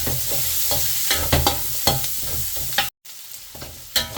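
Onions sautéing in a pan with garlic for pinakbet, a constant loud sizzle broken by repeated scraping stirs, with a brief silent gap near the end.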